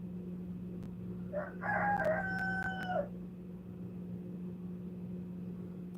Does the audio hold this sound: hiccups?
no